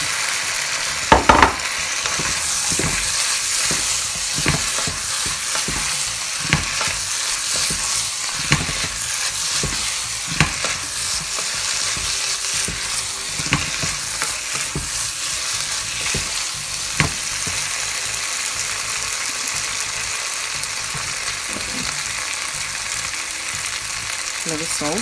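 Plantain fries in a pan with a steady, fairly quiet sizzle and crackle, broken by frequent sharp clicks and scrapes as the pieces are stirred.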